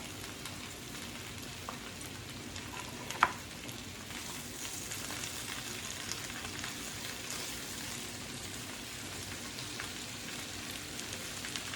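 Cabbage wilting in a hot pan, seasoned with no-salt seasoning, gives a steady, even sizzle that keeps up the whole time, with one brief sharp click partway through and nobody speaking.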